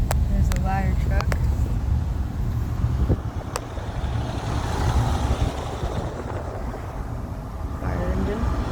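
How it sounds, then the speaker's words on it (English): A Kearney Fire Department ladder truck runs at the scene of a smoking microwave call, giving a steady low engine rumble with wind buffeting throughout. "There's the ladder truck."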